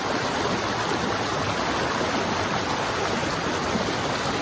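Steady rushing stream water at the Las Pailas natural water slides in Luquillo, Puerto Rico, a constant broadband wash with no breaks, close and fairly loud throughout.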